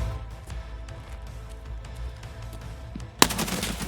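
A $2,000 rifle firing in Escape from Tarkov: a rapid, evenly spaced string of moderately loud shots, ending in a sudden louder, denser volley.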